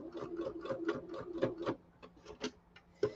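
A sewing machine back stitching a pillow seam, a run of quick mechanical ticks and thumps at an even pace, then a short pause and a few more stitches, close and clear.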